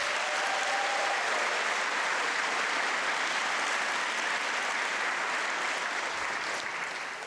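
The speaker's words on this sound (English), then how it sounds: "Let's give you a round of applause." An audience at a high school awards evening claps in a dense, sustained round of applause that stays steady throughout and fades slightly at the end.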